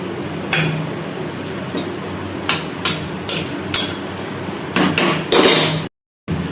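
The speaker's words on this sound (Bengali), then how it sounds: "এবার একটু ভালো করে নাড়িয়ে নিতে হবে" A spoon stirs curry in a pan, knocking and clinking against the metal in irregular sharp taps over a frying hiss, close and fairly loud, ending in a brief silence.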